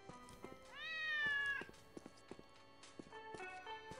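A cat in the video game Postal 2 gives one clear, drawn-out meow that rises and then falls, set against scattered game clicks and footsteps-like thumps, with no talking.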